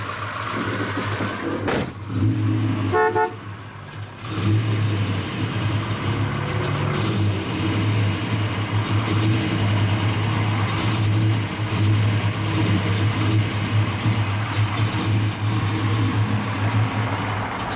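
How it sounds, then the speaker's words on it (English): A professionally built, fuel-injected 340 V8 with X heads and a performance cam in a 1968 Plymouth Barracuda Formula S runs close and loud, with a steady rumbling idle after a brief disturbance early on, then sustained throaty revving. "Fuel injection fires right up."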